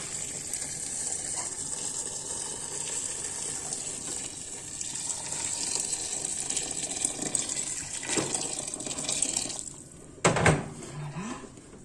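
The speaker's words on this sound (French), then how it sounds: "Et là, je vais couvrir avec de l'eau chaude." Hot water pours into a pressure cooker over black-eyed peas, a steady close splashing gush that runs throughout, ending with a couple of sharp clinks near the finish.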